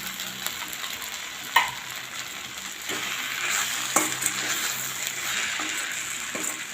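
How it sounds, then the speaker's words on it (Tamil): Grated coconut being stirred into okra frying in a pan, giving a steady close sizzle with scraping spatula strokes and a couple of sharper clanks against the pan. "இப்போ நம்ம கொஞ்சம் துருவி வச்சு தேங்காய் போட்டுக்கலாம்."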